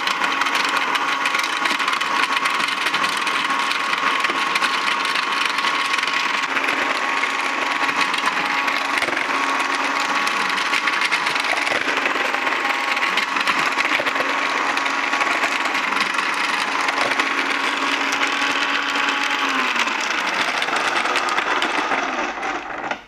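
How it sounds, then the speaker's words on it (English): A food processor fitted with a garnishing blade chops almonds and cashews, a loud, steady motor whine with a busy rattle that runs unbroken and then winds down at the end, with no talk. "Here is the garnishing blade. We are going to chop badam and cashew in this for garnishing sweets"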